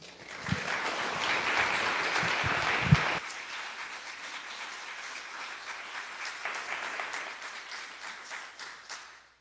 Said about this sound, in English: so please join me in welcoming Reverend Susan Overland.